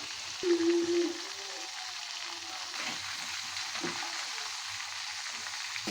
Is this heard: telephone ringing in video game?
no